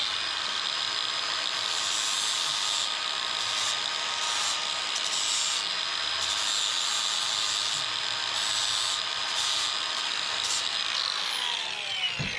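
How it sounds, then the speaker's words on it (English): A power tool fitted with a sanding blade grinds steadily through carbon-fiber bicycle handlebars, giving a loud high whine that pulses briefly and winds down at the end. "and now I'm going to hit it with the sanding blade."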